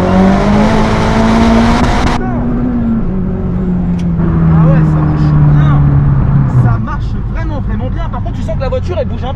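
A tuned Mazda MPS making over 500 hp launches with its wheels spinning. The engine revs hard and its pitch climbs and then drops, loud and close, while people talk over it inside the car.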